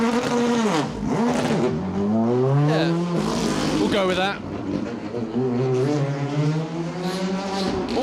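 A rally car on an asphalt stage of the Manx Rally, its engine revving hard and shifting through gears in rising and falling sweeps, loud and close, with a commentator talking over it.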